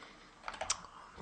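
A few quiet keystrokes tap on a computer keyboard, several soft clicks bunched in the middle of a brief, otherwise hushed moment.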